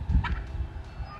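Turkeys gobble in a home vegetable garden with tomato plants, a short rattling burst standing out briefly over low outdoor background noise.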